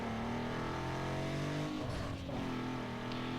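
A Hyundai drives along a road in the racing game Need for Speed Underground 2, with a continuous, steady engine drone that shifts slightly in pitch near the middle.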